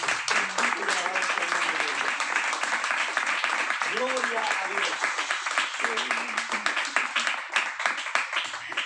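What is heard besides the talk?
audience applause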